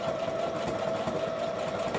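A sewing machine runs slowly and continuously along a stitching line, a steady mechanical whir with a faint rapid needle rhythm throughout.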